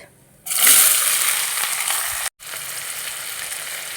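A loud, bright sizzle of chopped onions hitting hot oil erupts suddenly and continues steadily, briefly cutting out before resuming.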